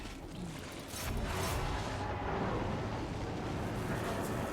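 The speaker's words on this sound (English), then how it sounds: "Doom bolt, which is bombardment" Doom bolt bombardment spell in Total War: Warhammer II erupting as a sustained loud roaring blast that swells after a quieter start and rumbles on for several seconds.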